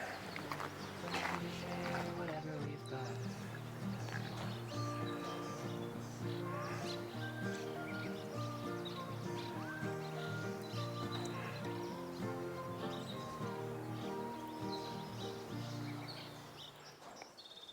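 Birds sing and chirp steadily amid a busy outdoor ambience in lush greenery in Arizona, with some hoof-like clopping and animal noises mixed in, moderately distant.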